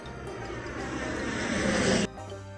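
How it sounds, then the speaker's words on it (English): An airplane roars steadily, its broad engine noise building in loudness over a couple of seconds before cutting off abruptly. "Airplane."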